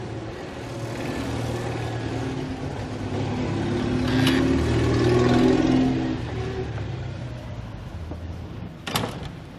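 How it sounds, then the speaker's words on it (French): Street traffic rumbles steadily along a Latin Quarter street in Paris, with a continuous broad wash of engines and tires that swells slightly in the middle, and a sharp brief clatter near the end. "Nous allons entrer pour nous abriter un petit peu des bruits de la circulation."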